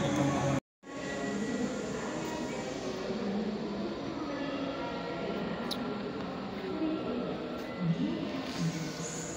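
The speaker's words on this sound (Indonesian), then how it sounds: "inilah kereta yang ditunggu-tunggu orang penumpang sudah datang melewati jembatan baja" A high-speed passenger train arriving over a steel bridge gives off a loud, steady rumbling roar that fills the whole stretch, with faint higher squeals on top and a brief dropout near the start.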